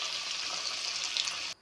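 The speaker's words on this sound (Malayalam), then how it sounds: "നമ്മളിപ്പോൾ ഇത് ഓരോന്ന് പൊരിച്ചെടുക്കാം" Paruppu vada deep-frying in hot coconut oil fills the clip with a loud, steady bubbling sizzle that cuts off abruptly at the end.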